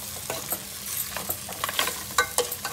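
Tomatoes fry in a pan with a soft steady sizzle, broken by short scraping strokes as a spoon stirs them; close and fairly quiet, with no talking.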